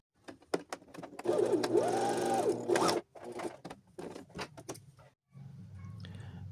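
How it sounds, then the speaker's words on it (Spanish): A sewing machine stitches a 1 cm seam through a folded trouser edge. Several short bursts of needle chatter stop and start among light handling clicks, with one longer run in the middle. "Con este doblez voy a coser a 1 centímetro para cerrar este inicio."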